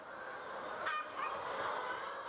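Korean native chickens clucking and calling, a few honking, nasal fowl calls in short bursts over steady background noise, moderately close but faint, no voices.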